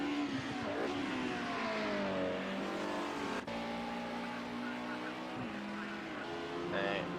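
Race car engines in a touring car sim racing game at Silverstone International, several cars droning and whining through gear shifts in a steady loud blend, with commentator talk running underneath.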